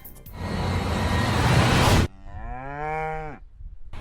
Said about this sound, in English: the rights of cows to moo and donkeys to bray throughout rural France